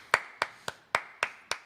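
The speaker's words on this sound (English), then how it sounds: "There are 4 hands clapping together here." Four hands clapping at a live music session, six crisp, evenly spaced claps sounding close and clear with no talking.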